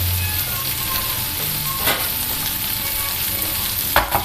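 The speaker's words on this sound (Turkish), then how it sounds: "karideslerimi pişirmeye devam edeceğim" Shrimp fry with only salt in a hot pan, giving a loud, dense, steady sizzle up close, broken by a couple of brief stirring clatters, with no talking.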